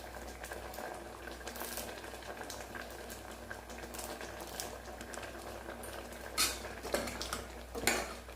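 Green mango curry with ground coconut, cumin and shallots simmering in a pot, a faint steady bubbling close by, broken by a few light clinks of a utensil against the pot toward the end.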